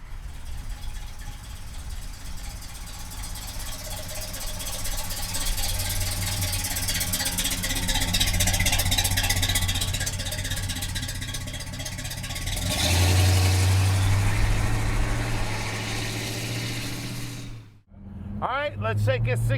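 The engine of a gold, numbers-matching 1967 Pontiac GTO runs with a low, rumbling idle that swells as revs rise, then drops sharply near the end while someone talks over it.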